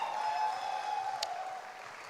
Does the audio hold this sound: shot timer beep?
no